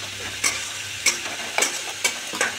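Garlic, onion and green chilli paste frying with chicken mince for a chickpea ghugni, stirred in a pan: steady close sizzle with about five sharp scraping stirs at regular intervals, no voices.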